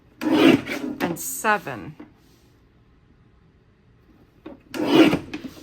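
Paper trimmer slicing cardstock while making slimline card bases, a close, rasping cutting stroke of about a second in the middle, with someone talking before and after.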